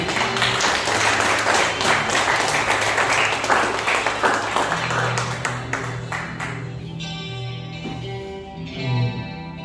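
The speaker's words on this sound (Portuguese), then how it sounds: "Você pode aplaudir o Senhor nessa noite?" A church congregation at an evening service claps loudly and steadily, then the clapping fades out as sustained instrumental music takes over.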